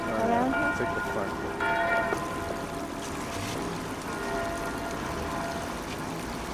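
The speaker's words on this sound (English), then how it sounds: "And it's noon, and the bell is ringing." Church bells ring at noon in Rome, their tones fading in and out of a loud, steady wash of outdoor crowd and traffic noise.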